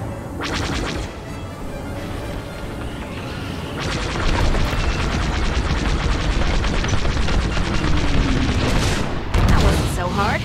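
Starfighter laser cannons fire in rapid bursts during a Star Wars: Squadrons space battle, loud and dense over a constant engine roar, with voices talking over the barrage.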